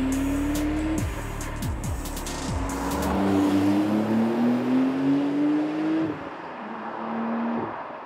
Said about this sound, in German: Das ist der Sound. Das ist Porsche-Sound.